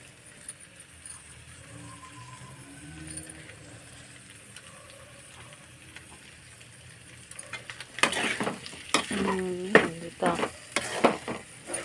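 Garlic, curry leaves and onions fry in a pan on high flame, a quiet soft sizzle at first, then louder bursts of stirring and scraping with sharp sputtering toward the end; no voices.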